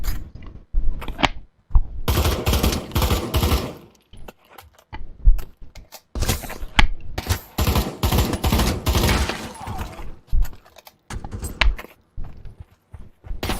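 Gunfire from a rifle fitted with the Glistco Magnistock in the Pavlov VR game, short loud bursts and single cracks broken by gaps, with mechanical clicks and rattles of handling and reloading between shots.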